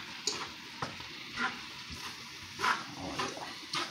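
Stir fry with sauce sizzles and crackles in a hot pan, with periodic scraping clatters of stirring over the constant frying hiss.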